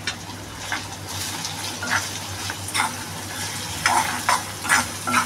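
Garam masala powder fries in hot ghee for a khichdi offering, giving a constant close sizzle with repeated bursts of brighter spattering and stirring scrapes.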